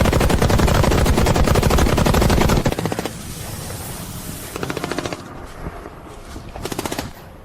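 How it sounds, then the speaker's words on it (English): Machine guns sweep an enemy Red Force squad near a dirt mound in a military battle, loud rapid bursts of continuous automatic fire up front, then fading to scattered shorter volleys and single cracks. "Machine guns, sweep them again."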